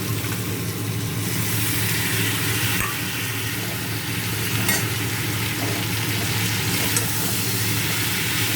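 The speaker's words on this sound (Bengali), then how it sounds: "আবার একটু নেড়ে দেবো" Potatoes with drumstick and poppy seeds fry in a pan while being stirred, a continuous even sizzling hiss with a few faint spoon scrapes, close and steady.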